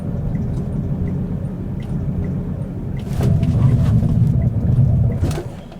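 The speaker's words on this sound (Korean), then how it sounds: "ABS가 작동한 소리예요." A Renault Samsung QM5 braking hard with the foot brake only, its ABS kicking in: a low rumbling road and engine drone that swells into a louder rapid juddering growl for about two seconds before easing off, no voices.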